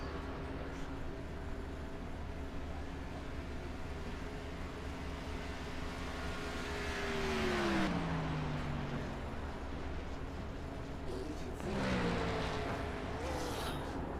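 Race car from the iRacing sim lapping Talladega, a steady engine drone with tones sliding downward as it shifts or passes, moderately loud and continuous with no talking.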